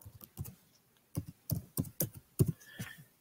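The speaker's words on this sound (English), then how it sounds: "just go ahead and type in Terminal" Close, quiet keystrokes on a Chromebook keyboard, a quick irregular run of about a dozen taps typing a short word.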